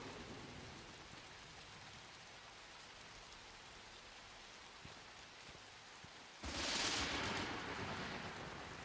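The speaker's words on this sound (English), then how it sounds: "you can hear the water coming down" Steady rain hisses quietly for several seconds in the video game Fallout 76, then a louder burst of thunder and heavier downpour rolls in and continues.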